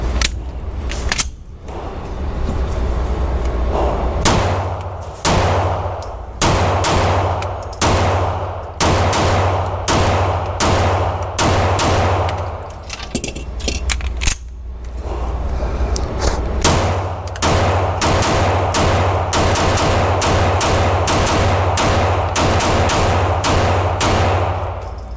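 Shots from a Canik pistol crack out at the range in quick irregular strings, loud sharp reports separated by brief pauses, some clustered rapid bursts.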